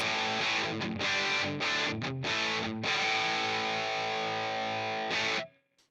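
Heavily distorted electric guitar chords from a NAM profile on a Headrush unit ring out through a speaker-cabinet impulse response, with brief choppy stops, then a held chord that cuts off abruptly at the end.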